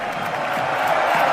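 Broad, steady roar of an AI-generated sports stadium crowd effect, a dense continuous wash of many voices with no distinct words, holding at an even level throughout.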